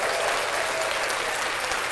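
A group of people clapping together to close out a live show podcast season, a steady dense burst of applause that lasts throughout with no voices over it.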